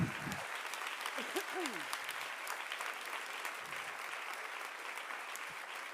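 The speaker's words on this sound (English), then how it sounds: "give him a big clap" Applause from the audience at a Women in Entertainment awards speech, a dense even patter of many hands clapping at moderate distance for six seconds, with a brief voice and laugh at the start.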